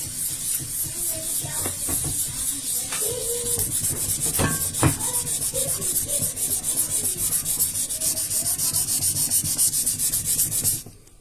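Ordinary chondrite meteorite being wet-polished on an abrasive surface gives a steady, continuous rubbing and grinding hiss with a few brief knocks, close and fairly loud, running until it cuts off near the end.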